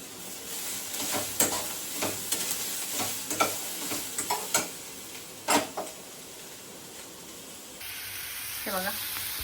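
Chopped tomato frying in a pan while a spoon stirs and scrapes it, a soft sizzle under repeated clacking strokes, then a brief change in the background near the end.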